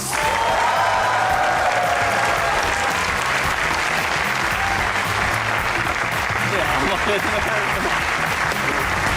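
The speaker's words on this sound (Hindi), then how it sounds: "आपकी भरपूर तालियों में इमरान नज़ीर और वाह रियाज" A studio audience at a comedy talk show gives loud, continuous applause to welcome cricketers, thick steady clapping throughout with faint voices mixed underneath.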